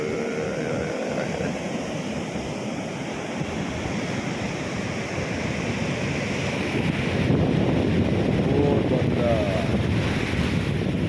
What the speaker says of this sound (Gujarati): અત્યારે દરિયો બરાબર તોફાન ચડેલો છે